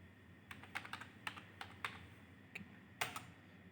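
Light keystrokes tap on a computer keyboard at a terminal, soft and close, a dozen irregular presses spaced over a few seconds against a quiet room hum.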